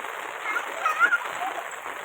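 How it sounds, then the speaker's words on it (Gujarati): Heavy rain falls and splashes steadily onto a rooftop terrace, a dense, even hiss with faint pattering, and a voice is briefly heard over it. "ફૂલ વરસાદ ચાલુ થઈ ગયો છે"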